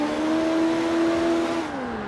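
A bone stock Mazda RX-7 drifting in the CarX Street game, its engine holding a loud, steady high-revving note that sags slightly near the end, with faint tire noise and no talking.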